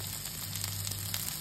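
Tuna patties sizzle and crackle steadily in a hot frying pan, a continuous close hiss of oil with scattered pops and no voices.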